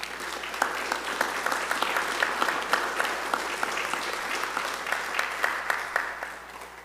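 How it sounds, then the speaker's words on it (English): A church congregation claps steadily for several seconds, a sustained round of applause in a large room. "Let's give them a round of applause, please"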